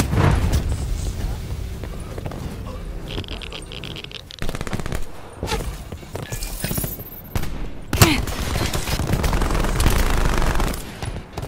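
Cluster grenade blasts in a Black Ops 4 team deathmatch, a dense run of rapid booms and crackling detonations layered with gunfire, loud and continuous under game voice lines.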